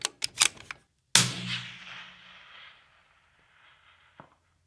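A single cold-bore rifle shot at a long-range target, a loud sharp report with a long rolling outdoor echo, preceded by faint clicks of handling and followed by a faint distant thump.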